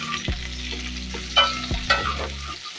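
Capsicum sizzles and fries in a pan for paneer curry. The hiss is steady, and a utensil stirs and scrapes the pieces in a few distinct strokes.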